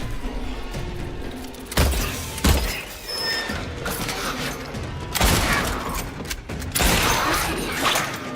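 Handgun shots ring out in the Silent Hill 2 Remake game, two sharp reports a second apart amid clanking, thudding game effects and a scrappy mechanical background.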